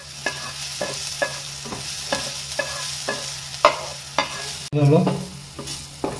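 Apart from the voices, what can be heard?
onion frying and being stirred in a pan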